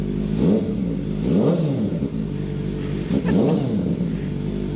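A Kawasaki Ninja ZX-4RR sport motorcycle engine revs hard three times in a row, each rising to a loud snarl and dropping back to a steady idle.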